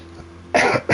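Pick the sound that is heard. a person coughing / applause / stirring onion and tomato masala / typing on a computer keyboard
a person coughing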